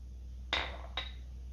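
Cooled peas are tipped into a metal mixer jar, making two sharp clinks of a utensil against the jar half a second apart over a low background hum.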